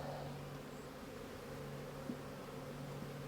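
Honey bees buzz around a hive in an early-swarming colony, a steady low hum that holds evenly throughout, close and continuous, with no voices.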